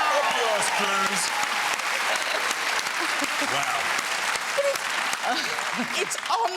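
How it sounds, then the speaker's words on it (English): A studio audience at a TV chat show breaks into steady, close applause that fills the room, with a few voices and laughter mixed into the clapping throughout. "Applause, Cruise."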